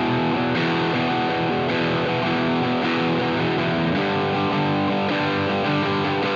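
Electric guitar through an LPD Pedals Lucent Overdrive, drive knob around 1 to 2 o'clock, with a gritty crunch, strummed chords ringing out and changing roughly once a second, loud and sustained.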